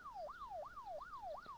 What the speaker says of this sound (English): The siren noise, we're just going to have to embrace and get used to